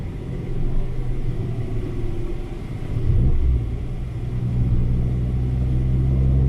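Low rumble of a 2015 Fiat 500 Abarth cruising on the road, a steady engine drone and road noise that swells slightly around the middle and again toward the end.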